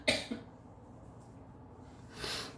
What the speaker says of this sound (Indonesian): Bentar, aku batuk dulu ya.